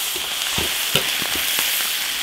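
Eel pieces sliding into a hot iron wok already seasoned with salt and sesame oil, giving a close, steady frying sizzle broken by a few sharp pops and crackles.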